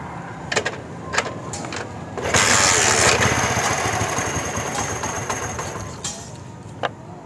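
A Honda CD70 motorcycle with a newly fitted carburetor is kick-started and runs, a close, steady engine chug that swells briefly, with scattered clicks and knocks around it.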